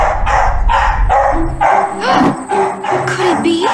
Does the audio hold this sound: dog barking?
yes